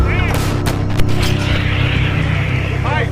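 Ukrainian gun crews fire an artillery salvo, heard as loud, dense rumbling blasts and booming reports over a continuous low roar, with a sharp thump near the middle and a close, heavy, unbroken wash of sound.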